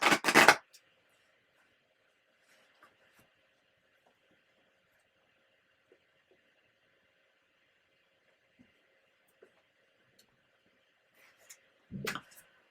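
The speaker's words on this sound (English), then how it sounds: "I'm going to give it one more shuffle." Two brief bursts of cards being shuffled, one at the start and one near the end, separated by a long quiet stretch with faint ticks.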